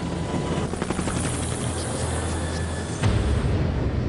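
A military assault helicopter gives a steady rotor drone with a throbbing low-frequency thump, loud and continuous, with a slight surge in intensity near the end.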